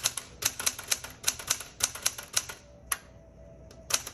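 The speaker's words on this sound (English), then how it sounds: "This is an A plus typewriter." A 1973 Smith Corona Galaxie Twelve typewriter types in crisp, close keystrokes, a steady run of about a dozen sharp clacks followed by a brief pause with a faint hum, then a few more strikes at the end.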